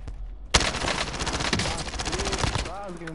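Rapid automatic gunfire rattles in a Call of Duty Modern Warfare match, a dense burst of close shots starting abruptly and continuing for a couple of seconds, with a voice calling out near the end.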